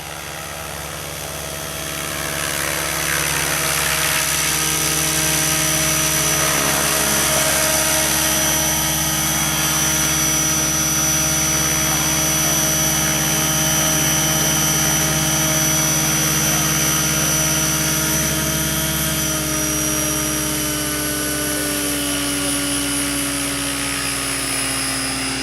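A helicopter coming in to land, its engine and rotor making a loud, steady, close drone with a strong whine that holds the whole time and never fades.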